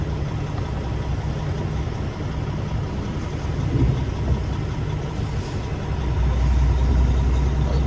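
Semi truck backing its trailer up a steep incline into a tight spot, a steady diesel engine drone with a low rumble that grows heavier near the end; no distinct scraping stands out.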